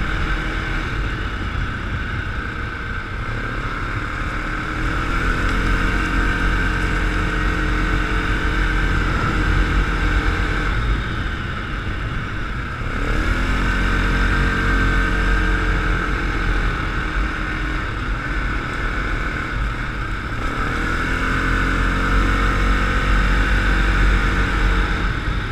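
A Yamaha Grizzly 700 ATV engine drones steadily throughout a ride on a road, loud and close. The pitch rises and falls in repeated sweeps as the throttle opens and eases off between turns, with constant wind and road rumble underneath.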